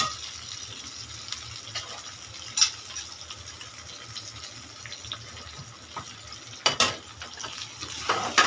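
Okra hitting a pan of fried onion, garlic, dried red chilli and panch phoron makes a faint, steady hiss of frying, with a few brief clinks and scrapes scattered through it.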